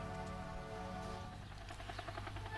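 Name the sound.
formation of helicopters flying over beaches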